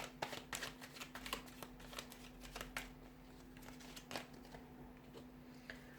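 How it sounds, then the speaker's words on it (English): Tarot cards being shuffled by hand, a steady run of soft papery riffles and flicks at close range, with a faint constant hum underneath and no talking. "So I'm going to give the cards a shuffle and see what the cards want to share with you here."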